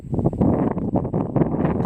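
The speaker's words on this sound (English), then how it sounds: "It's just so windy out here" Gusty wind buffets the microphone outdoors on Indian Lake in Hoosier National Forest, from a small fishing boat at anchor. The low rumble is loud and continuous, with rising and falling gusts.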